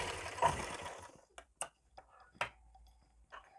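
A sewing machine stitches along an edge to attach invisible thread piping to fabric, giving several short, separate clicks and brief bursts of stitching after an opening stretch of noisy handling, with quiet gaps in between.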